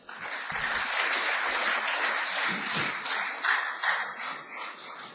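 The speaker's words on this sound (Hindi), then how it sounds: "पुरजोर तालियों के साथ उनका आप स्वागत करें" Applause from an audience welcoming Rajiv Dixit onto the stage at a lecture event, a dense, steady wash of many hands clapping that runs throughout at moderate distance, with no talk over it.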